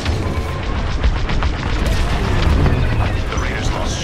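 Distant booms and crashing blasts of an Imperial fleet firing on a convoy during a space battle in the Star Wars Squadrons game, a dense, rumbling barrage with a voice speaking over it.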